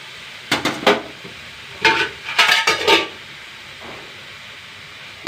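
A ladle scrapes and clanks around a curry pot in a home kitchen, several bursts of metallic stirring with short gaps, then quieter handling and a final knock, close and without voices.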